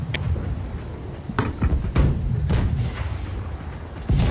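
Heavy booming cannon shots fire in an irregular volley, several blasts overlapping with rumbling low end and sharp cracks, loud and close.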